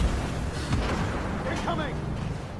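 Incoming artillery shells bursting around a tank in the video game Armored Warfare, a continuous heavy rumble of distant explosions with speech over it.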